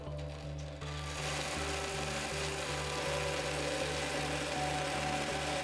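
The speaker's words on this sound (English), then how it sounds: "First, we see the rear wash with adjustable position." The Brondell Swash 900 bidet seat's stainless steel nozzle sprays a steady rear wash, a constant close hiss over a pulsing motor hum that holds at an even level.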